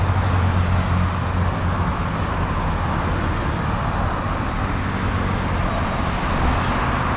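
Cars, buses and trucks passing on a highway in Brazil, a loud, continuous roar of road traffic heard from the roadside, with heavy low rumble and no talk.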